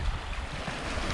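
Ocean waves wash in a bay where dry forest reaches the shoreline, heard as a steady low rumble of surf mixed with wind buffeting the microphone.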